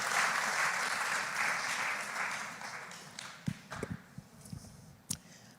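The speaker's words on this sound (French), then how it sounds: "vous avez le droit d'applaudir" A church congregation applauds and cheers through the first few seconds, a dense wash of clapping that thins out into scattered claps and taps toward the end.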